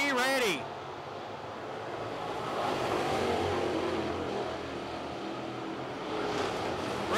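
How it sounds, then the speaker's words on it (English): Limited late model race cars roar around the dirt oval at Cherokee Speedway, a broad steady engine drone that swells and fades as the pack passes, with a brief pitch-sliding pass at the start and a second surge near the end. "John Ruggiero coming back after Seth Wimpy as they battle out on the racing surface"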